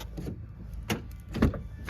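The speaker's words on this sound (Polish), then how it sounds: "Otwieramy drzwi od strony kierowcy." The driver's door of a Renault Captur opens with a few sharp mechanical clicks and clunks of the latch and hinge, close up and unaccompanied, with brief rustling between them.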